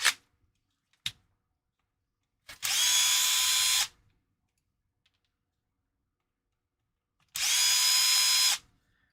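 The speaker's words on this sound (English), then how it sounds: "I have to take the screws out anyway." A power drill whirs in two sustained bursts of about a second each while taking out screws, close and loud, with a few sharp clicks before it and near silence between runs.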